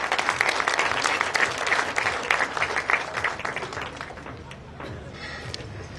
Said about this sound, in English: I think we should all applaud the bridesmaids.